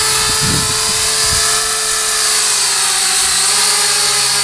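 Small foldable-arm JJRC H47 quadcopter drone with its motors revving up as throttle is added, a steady high-pitched electric whine that rises and holds close by outdoors, with some low wind rumble underneath.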